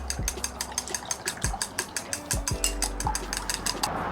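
Raw egg wash beaten in a bowl with hibachi chopsticks, a fast run of sharp clicking taps against the bowl in a steady rattling rhythm, close and clear with no talking.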